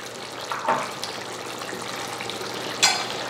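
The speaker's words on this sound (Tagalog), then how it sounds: "habang kumukulo, hahalo-haluin lang muna natin" Pork binagoongan with fried eggplant simmers in a pan, a soft bubbling sizzle with a couple of brief scraping stirs from a utensil, close and moderately quiet.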